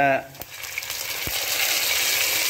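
Masala for a curry leaf and bitter gourd gravy fries in oil with a close, steady sizzle that builds after a short opening snatch of voice and a light clink.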